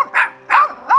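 Dogs in a French village bark three times in quick succession, loud and close, with short gaps between the barks and no talking.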